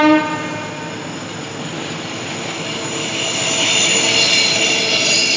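Indore–New Delhi Intercity Express passenger train (12415) rolling past up close with a sustained horn blast, steady rail and wagon rumble building louder toward the end, no voices.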